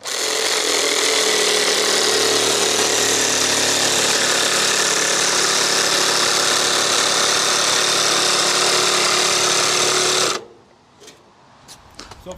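A Makita jigsaw fitted with a new Diablo carbide blade cuts composite decking in one loud, steady, buzzing run lasting about ten seconds, then stops abruptly, leaving quieter handling noises.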